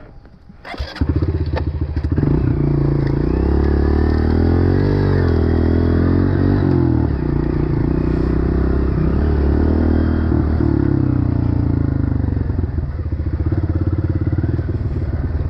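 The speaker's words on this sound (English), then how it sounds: "I hear bikes. Yeah, I hear them too." Dirt bike engines rumble loud and close throughout, a steady throbbing drone with small shifts in pitch and no break.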